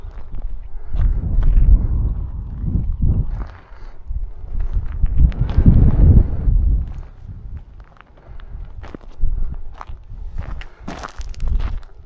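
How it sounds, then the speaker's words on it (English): Strong wind buffets the microphone on an open hilltop at Holt Heath, giving loud, low rumbling gusts that swell and fade in uneven waves for the whole stretch, with faint rustling and footstep-like thumps. "It's very windy."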